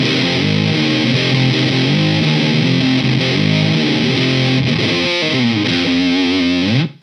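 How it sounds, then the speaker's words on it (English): An electric guitar runs through an Electro Harmonix Big Muff fuzz pedal, loud and thick with sustained distorted chords that ring out before stopping abruptly at the end. "So the Big Muff is obviously a fuzz"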